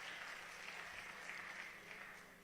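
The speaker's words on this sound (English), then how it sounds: "A round of applause for them, please." Audience applause at a talk on youth and African economic development, a steady wash of clapping held at moderate level with no voices on top.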